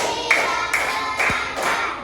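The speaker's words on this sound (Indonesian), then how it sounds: "Tepuk 1, tepuk 2, tepuk 3, tepuk 4, tepuk 5." Children clapping in a counted classroom rhythm game, with several separate group claps spaced about half a second apart against faint room noise.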